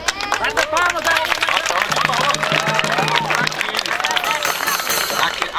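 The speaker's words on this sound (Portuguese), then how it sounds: "Bata palmas aí." Crowd applause at an outdoor clown show in a park, hands clapping amid lively babble and cheering, with children's and adult voices talking and calling out throughout.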